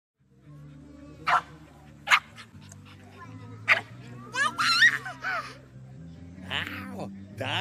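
A few sharp dog barks ring out at intervals over a steady background hum, with people talking around them.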